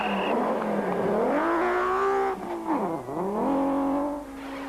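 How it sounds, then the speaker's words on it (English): BMW rally cars race on a dirt stage, engines revving hard and close, pitch climbing and dropping through gear changes and lifts before surging again. "Werner Kuckermoer and Cobus Frey are in a ding-dong battle with a similar car of Cliffy Blackman and Johan Claassen, with only 16 seconds separating the two BMWs"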